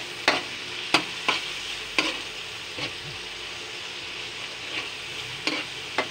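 Ground meat sautés in a pan for a meatloaf soup, giving a continuous sizzle broken by several sharp scrapes and clatters of a stirring utensil at irregular intervals.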